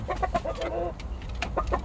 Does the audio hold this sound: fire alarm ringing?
no